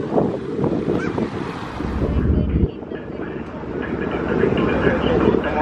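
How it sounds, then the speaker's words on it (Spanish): Seagulls call over the sea near a ferry off Galveston, their honking cries mixed into heavy wind and engine rumble, with people talking nearby. "Vean las gaviotas."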